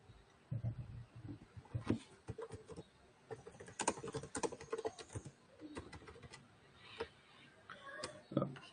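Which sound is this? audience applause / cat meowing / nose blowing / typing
typing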